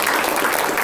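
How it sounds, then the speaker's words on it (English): A room of people at a municipal committee meeting applauds an award winner from the Michigan Municipal Treasurers Association, a brief, dense patter of clapping heard close and steady. "yes, we can all clap."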